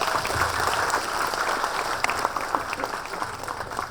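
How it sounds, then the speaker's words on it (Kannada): Sustained applause from an audience at an annual day function, steady crowd clapping filling the hall, fairly loud and continuous with occasional sharper claps standing out. "ಸೊ ಅದಕ್ಕೋಸ್ಕರ ಚಪ್ಪಾಳೆ ಜೋರಾಗಿ ಬರಬೇಕು"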